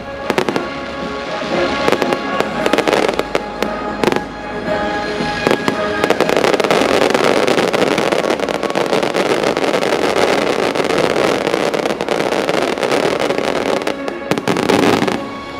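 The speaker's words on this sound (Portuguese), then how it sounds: "com toneladas de fogos explodindo e iluminando toda a região" Fireworks bursting over Valencia during a big pyrotechnic show, a dense, loud barrage of booms and crackling that runs almost continuously, with a few brief lulls between volleys and no voices.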